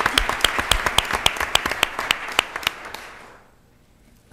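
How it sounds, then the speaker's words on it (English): Applause at a Rochester, New York city council meeting, a small group clapping in close, distinct claps that thin out and fade to near silence after about three seconds. "Let's give her a big round of applause."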